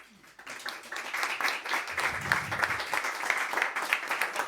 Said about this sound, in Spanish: le dimos un fuerte aplauso para Franco y su discurso